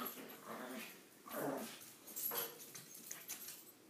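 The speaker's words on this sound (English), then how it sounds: "It's the dogs." Dogs growl and whimper in a few short bursts, fairly close, with quieter whining and restless noise in between.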